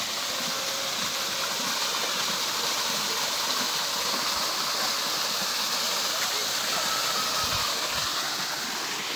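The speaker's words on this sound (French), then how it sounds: "Là, on a une magnifique cascade d'eau." A waterfall in a zoo in Alsace pours in a steady, broadband rush of water, continuous and fairly close, with no breaks.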